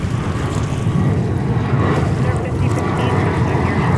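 An airliner rumbles on runway 4 at JFK airport in New York, a broad, loud roar of jet engine noise and wind that stays steady and close for several seconds.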